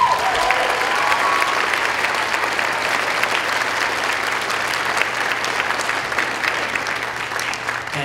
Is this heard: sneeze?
no